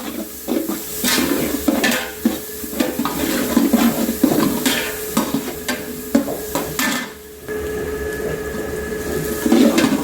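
Sliced onions sautéing in a pan for a party-style mutton white majboos, with a steady sizzle broken by repeated stirring scrapes, close and fairly loud, with no voices.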